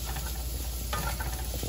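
Smoked turkey reheating in grease in a pan, giving a steady close sizzle with light stirring and scraping, and no talk.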